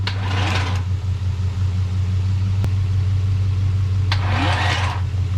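A third-generation Chevrolet Camaro engine, started for the first time in 10 years, idles with a steady low rumble, revving briefly near the start and again near the end, close by.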